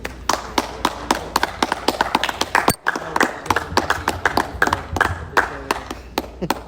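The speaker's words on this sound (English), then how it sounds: "If we give you an applause," A small group of people clap irregularly inside a historic theatre, close and sharp individual claps with a brief pause midway before clapping resumes.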